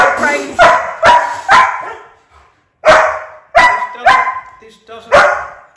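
Excited puppies bark repeatedly at close range, sharp loud yaps in quick bursts of two or three with brief pauses between.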